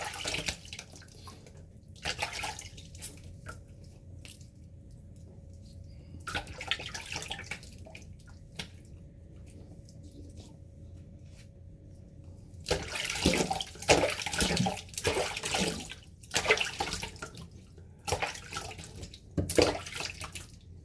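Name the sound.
water running from tap while rinsing after shaving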